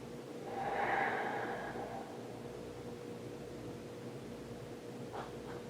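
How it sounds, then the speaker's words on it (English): A deep inhale through the nose during myofascial release work on the lower adductor with a ball, one slow airy breath that swells and fades over steady background hiss, close and quiet. "Inhale."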